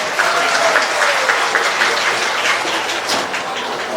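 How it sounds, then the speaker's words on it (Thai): Steady, loud welcoming applause from a large crowd at a university arts and culture festival opening ceremony in Ubon Ratchathani, Thailand, dense clapping continuing without pause. "ขอเสียงปรบมือต้อนรับนะคะนายชลธียังตรงผู้ว่าราชการจังหวัดอุบลราชธานีค่ะ"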